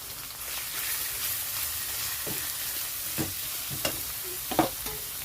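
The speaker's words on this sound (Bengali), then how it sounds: "এখন দিয়ে দিচ্ছি পেঁয়াজ দিচ্ছি আদা" Onion and ginger fry in hot oil with bay leaf and browned garlic, giving a constant soft sizzle punctuated by a few distinct scrapes of a spatula toward the end.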